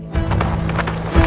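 Horse Philippe pulling a sleigh across a frozen pond: close, clear hoofbeats in a quick clip-clop rhythm, with a loud thump near the end and no talking.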